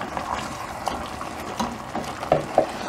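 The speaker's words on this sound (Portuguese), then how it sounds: "E agora eu vou colocar aqui a água." Water pours into a cooking pot for an Azorean-style lunch, a steady, fairly close rushing splash with a few brief clinks and surges along the way, and no talking.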